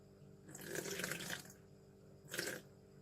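Water poured in two short splashing bursts into a container while making slime, close and fairly faint, with a pause between pours.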